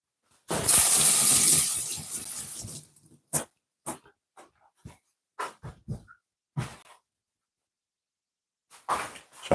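Tap water runs loudly over fresh thyme in a kitchen sink for about two seconds, then fades into scattered light drips and soft handling clicks, close by with no speech.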